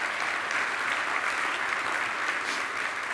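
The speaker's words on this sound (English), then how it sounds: "give Joe and his team and Senator Brandes a round of applause for their leadership" Steady audience applause at a summit welcome session, a dense wash of clapping from a large crowd that holds even and loud for about three seconds with no voices over it.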